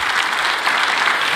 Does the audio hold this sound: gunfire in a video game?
no